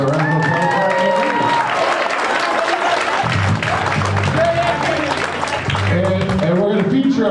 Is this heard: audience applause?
yes